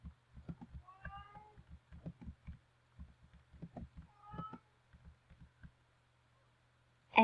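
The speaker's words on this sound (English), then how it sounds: "And by the way, that is my cat." A pet cat meows several times, drawn-out cries rising and falling amid soft intermittent rustling and taps, fairly close and moderately loud, followed by a near-silent stretch and a sudden thump at the end.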